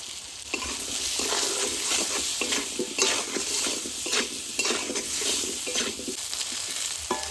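Potatoes fry in hot oil with salt, turmeric and green chillies in a village-style pan, stirred with repeated scraping and clinking strokes over a steady, close sizzle.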